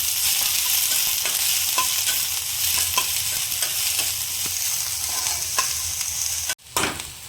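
Chopped onion and a green chilli sizzle and fry steadily in a hot pan, with occasional stirring scrapes throughout and a brief pause near the end before the sizzling resumes.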